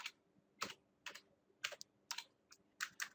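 Quick, close clicks of keys on a computer keyboard come in irregular short bursts, about a dozen crisp taps over a quiet room background.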